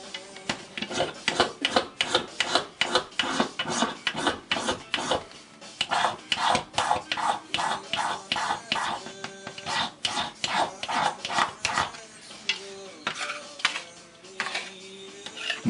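A magnesium fire starter tool is scraped to take shavings off, close repeated rasping strokes in an uneven rhythm, loud and dry, continuing through the whole stretch with no talk.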